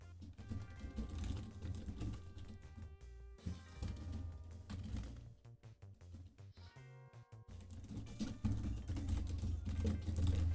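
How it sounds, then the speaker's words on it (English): Computer keyboard typing during a relaxed gaming stream, a steady run of soft key clicks over continuous background music, with no talking. "You can hear my keyboard."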